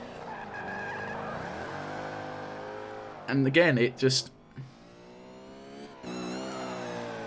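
A Mercedes C63 AMG slides sideways on the Top Gear test track in Forza 5, its tires squealing over the engine drone, while someone talks excitedly throughout.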